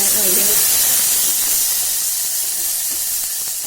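Sprouted moth beans dropped into hot oil spiced with curry leaves and turmeric for misal, a loud steady sizzle and hiss that holds throughout and slowly eases, with a brief voice near the start.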